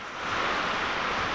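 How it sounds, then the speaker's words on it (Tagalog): A storm with strong wind and rain, a dense steady hiss and rushing roar swelling in and holding loud and constant, no voices. "Napakalakas ng hangin."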